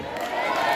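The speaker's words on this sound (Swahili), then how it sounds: "Makofi mazuri kwa Yesu." Church congregation clapping and cheering during a sermon, a brief loud burst of crowd applause with voices mixed in.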